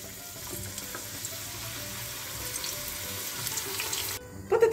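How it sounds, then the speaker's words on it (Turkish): Steady hiss and crackle of potatoes frying in hot oil in a pot, with some water-like splashing, continuous and close, ending in a louder clatter. "Patateslerimizi kızgın yağda kızartıyoruz."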